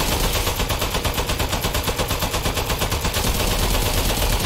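Rapid gunfire in the video game Aperture Desk Job, a dense continuous rattle of shots that stays loud and steady throughout with a fast regular pulse.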